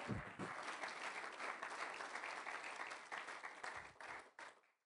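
Loud, sustained applause from a congregation at an evangelical revival campaign service in Fairfield, Ohio, dense clapping filling the room before tapering off at the end.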